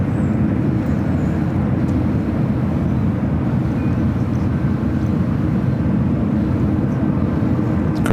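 A United Boeing 787-9 Dreamliner taxiing out at San Francisco airport gives a loud, continuous, even engine rumble with no distinct peaks, heard on its own without talk.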